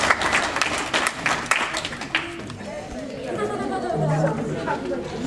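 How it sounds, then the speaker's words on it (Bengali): Guests at an annual dinner clap in a brief burst of applause that fades into crowd chatter and general room noise, with people talking throughout. "ওর জন্য একটা করতালি সবাই"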